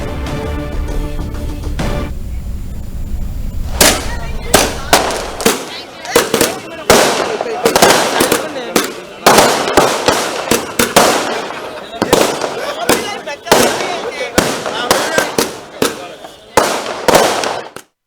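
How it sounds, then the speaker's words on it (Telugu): Firecrackers set off in a political celebration outside the GHMC office in Hyderabad: a long run of loud, sharp bangs in an irregular rapid series, close by, with voices faintly mixed underneath. "కాంగ్రెస్ కార్పొరేటర్స్ తో కలిసి బాణసంచా కాల్చి సంబరాలు జరుపుకున్నారు"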